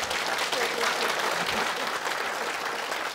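Sustained applause from a large audience at a hosted ceremony, a dense, steady wash of clapping that carries loud and even for its whole length, with no clear voices standing out above it.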